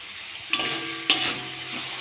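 Masala of chopped tomato, cumin powder, coriander powder and salt being sautéed in a pan, a soft frying hiss broken by three sharp scraping stirs of the spoon, with no talking.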